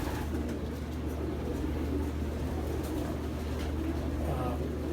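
Low, continuous cooing from a crowded loft of racing pigeons, many birds overlapping into a steady hum at moderate distance, with faint background movement.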